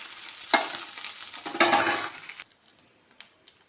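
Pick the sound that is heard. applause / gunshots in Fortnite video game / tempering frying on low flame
tempering frying on low flame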